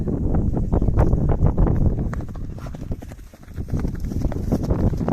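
Hooves clop steadily on hard ground as horses walk nearby, with wind buffeting the microphone throughout.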